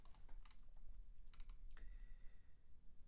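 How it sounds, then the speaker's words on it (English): Quick typing on a computer keyboard, bursts of crisp key clicks close by in a quiet room, with no talking. "Just typing in this GitHub comment box is painful."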